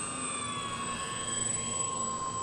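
An XFly-Model Twin Otter twin-engine RC airplane drones overhead with a steady whining propeller tone, its pitch gliding slowly as the throttle is modulated, continuous and fairly loud with no voices.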